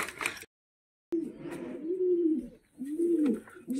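Pigeons coo in a breeding cage, two drawn-out rolling coos close by after a brief chirpy start and a moment of silence, with light rustling between calls.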